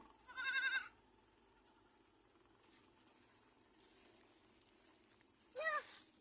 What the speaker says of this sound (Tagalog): Hawakan mo na yung kambing.